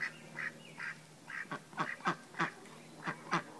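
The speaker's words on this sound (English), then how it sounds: "I love watching my ducks." Domestic ducks quack in a run of short nasal calls, closely spaced and near, several birds overlapping at moderate loudness with no talk.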